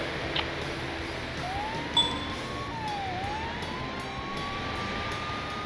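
Police car siren from the Simsaga police sim game, a faint wailing tone rising and falling across the clip over a steady background hum of traffic.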